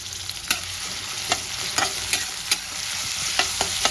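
Chopped onion and green chili frying in white oil, a steady close sizzle with several sharp spatula scrapes and knocks against the pan at irregular intervals, no talking.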